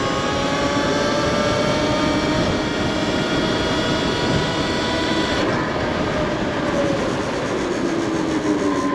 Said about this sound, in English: We'll do a quick open throttle full test.